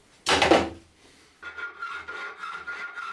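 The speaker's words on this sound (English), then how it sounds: "Then I just filed out the notches with a hand file." A loud rasping burst of filing, then a pause, followed by steady back-and-forth scraping strokes of a hand file cutting notches in a metal kickstand, close up.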